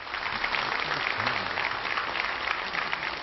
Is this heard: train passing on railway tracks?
no